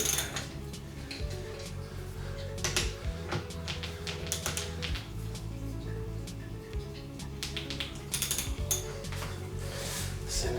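A spanner works on bolts during assembly of an Eskute Voyager 250W hardtail mountain electric bike, giving repeated close metallic clicks, ratcheting and clatter in an irregular rhythm, fairly quiet, with no talk.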